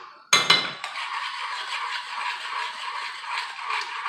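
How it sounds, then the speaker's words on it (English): Garlic and butter stirred in a pan over moderate to high heat, opening with a couple of sharp metallic clinks, then a steady, fairly close sizzle that carries on alone to the end. "Make sure you stir so it's not sticking to the bottom, because you do have it on moderate to high heat."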